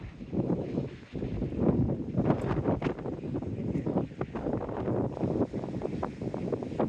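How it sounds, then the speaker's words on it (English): Wind on a seafront at low tide buffets the microphone in soft, uneven gusts, a low rumbling whoosh that rises and falls without pause. "A windy seafront."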